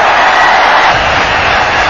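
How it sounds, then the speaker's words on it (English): Stadium crowd at a 1996 World Cup cricket match between Australia and Kenya in Vizag, a loud, dense, continuous roar of cheering with no break. "And the crowd here really loving every moment of it"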